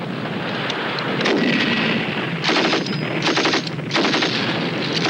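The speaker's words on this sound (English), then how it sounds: "Here we're watching a UK battle group making the best use of its artillery and anti-tank fire." Artillery and anti-tank gunfire from a UK battle group in an army training film, heard as a continuous, loud barrage of overlapping bursts and booms with repeated sharp volleys.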